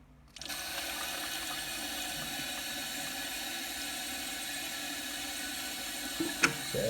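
Water rushes steadily into a toilet cistern through the fill valve, a constant close hiss that starts abruptly and continues unbroken, with a brief clunk near the end.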